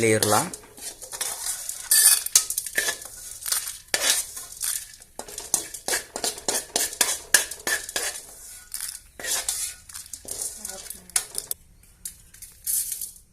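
Chana dal roasting in a pan for pirandai chutney, with a spoon scraping and clinking against the metal steadily throughout, a soft sizzle underneath and no talking.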